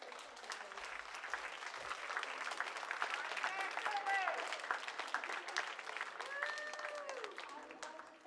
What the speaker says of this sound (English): let's give a round of applause to all of our